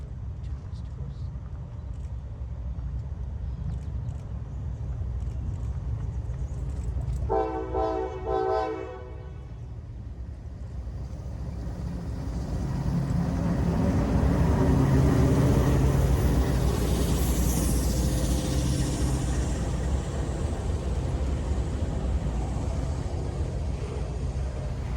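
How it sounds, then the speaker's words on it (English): Norfolk Southern freight NS62V, an empty trash train bound for Oak Island, New Jersey, rumbles past as a steady loud roll of wheels and cars, with a brief horn-like tonal burst early on and the noise swelling midway. "Directly following C51 was NS62V, an empty trash train bound for Oak Island"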